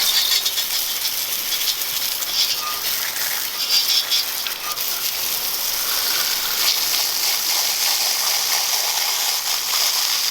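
Water sprays in a steady, loud hiss over an Apollo 125 pit bike, a dense continuous spatter that barely changes as the stream sweeps across the bike.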